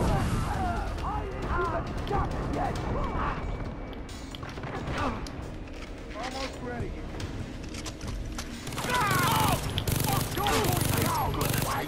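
A grenade launcher and other gunfire in the Far Cry 3 shooter, dense and continuous with mechanical clanks and creaks, a heavier burst near the end, and voices talking throughout.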